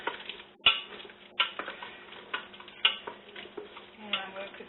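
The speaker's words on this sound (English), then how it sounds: "And I'm going to stir this." Pork and beans being stirred in a pot with bay leaf, cinnamon, thyme, Coke and milk, a spoon scraping and knocking against the pot in several soft strokes with a few sharper clinks, close and moderately quiet.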